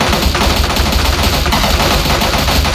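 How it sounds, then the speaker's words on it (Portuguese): Dense, loud automatic gunfire from a GTA roleplay game, with rapid continuous bursts that fill the whole stretch with no pauses. "Ele vai ficar atirando na porta"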